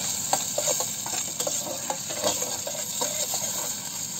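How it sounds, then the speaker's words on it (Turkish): Tomato paste fries in a pot with a constant sizzle, while a utensil stirs and taps against the metal in light irregular clicks, no talking. "Biraz salçayı şöyle kavuracağım."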